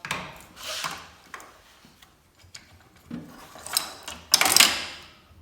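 Old gathering chains and a sprocket pulled off a John Deere 40 Series corn head give scattered metallic clanks and rattles, with a louder, close burst of clattering near the end.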